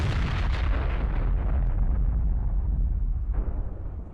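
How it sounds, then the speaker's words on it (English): Drone strike hitting a Russian armored vehicle, a dense sustained roar of blast and rumbling debris that fills the whole stretch, loud and heavy in the low end, fading slightly at the close. "The drone closes in on the target and there's another explosion."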